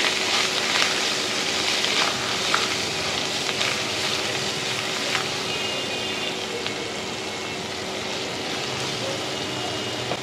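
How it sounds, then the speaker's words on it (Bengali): Garlic and ginger paste frying in oil over browned onions for magur fish tel jhal hisses steadily and closely, with occasional faint taps of the stirring spoon; no one speaks. "রসুন আদা বাটা দিয়ে একটু ভালোভাবে আমি নেড়ে নেব"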